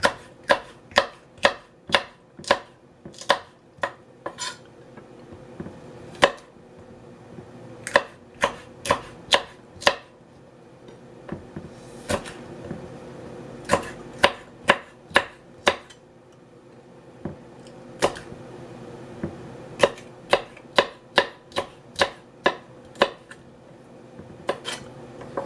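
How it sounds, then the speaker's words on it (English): Sweet peppers being chopped with a knife on a board while cooking Ghanaian jollof rice, crisp rhythmic chops in quick runs broken by short pauses, close and moderately quiet. "So all my sweet peppers are nicely chopped."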